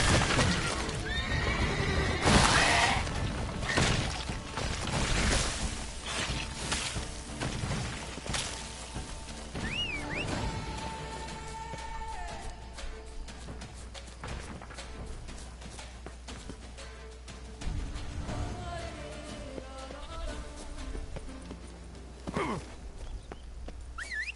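A horse in the video game The Witcher 3: Wild Hunt neighs and whinnies several times, with hooves clopping and scattered game sound effects across a long, busy stretch.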